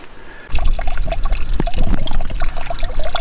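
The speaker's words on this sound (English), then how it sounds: "So you can run it through your filter." Water runs loudly and continuously through an inline camping water filter, a close, steady gush and trickle that starts abruptly and carries on alone.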